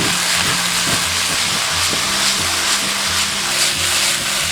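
Vegetables stir-fried in a hot oiled wok with scallion, ginger and garlic give a loud, steady sizzling hiss throughout, with faint tonal sounds in the background.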